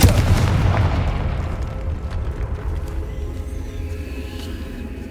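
A Confringo fire spell blast in Hogwarts Legacy erupts as a loud, close boom, then its rumble slowly decays over several seconds with no talking.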